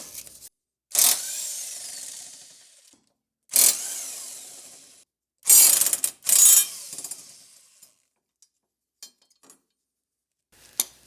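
A tool loosens 19mm bolts and a 19mm nut on the rear plate of a 2020–2025 Subaru Outback front lower control arm. There are four loud, close mechanical bursts separated by silence, then a few faint clicks.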